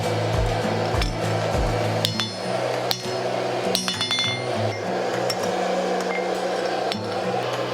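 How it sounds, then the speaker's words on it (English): Repeated metallic hammer strikes on hot metal on an anvil, forging a claw hammer, ring out against a steady mechanical hum, with clinking hits spaced irregularly throughout. "I'm gonna hammer these back together"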